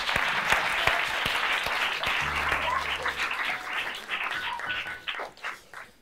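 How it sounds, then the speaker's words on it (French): A small crowd claps steadily, the applause fading toward the end with a few scattered claps. "on peut l'applaudir"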